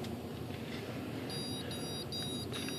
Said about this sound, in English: Now I'm listening for beep, beep, beep, beep to exit.